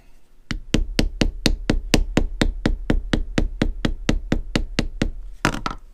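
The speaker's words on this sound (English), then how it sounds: "I'm going to hammer the heck right on out of that." A mallet strikes leather being tooled in a steady, rapid series of about twenty evenly spaced, fairly loud blows, close by and with no talking.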